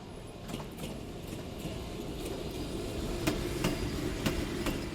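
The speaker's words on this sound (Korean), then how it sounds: "런던으로 돌아가는 기차 안에서 홈즈가 이렇게 말했다" An audiobook sound effect of a train running on rails: a continuous low rumble with regular clicking beats of wheels over track joints, moderately loud and steady, with no talk.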